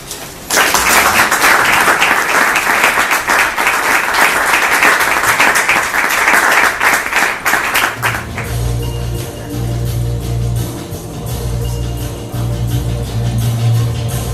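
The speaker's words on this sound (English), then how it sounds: "please give Ambassador Sabat and his team a big round of applause" An audience at a Sri Lankan ambassador celebration applauds Ambassador Sabat and his team, loud dense clapping for about eight seconds, then fading as music with a low steady bass takes over.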